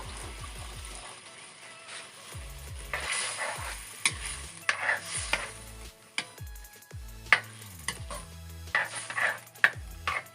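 Water goes into a sizzling village-style chicken gravy with black pepper, which is then stirred: a soft sizzle with a spoon repeatedly scraping and clicking against the pan, over faint background music.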